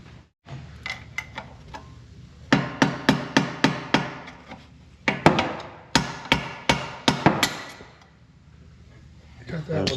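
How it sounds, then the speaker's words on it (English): A hammer taps repeatedly on a part of a broken-down bus, delivering several quick bursts of sharp, close metallic knocks in an uneven rhythm with short pauses between them. "I have to get a hammer."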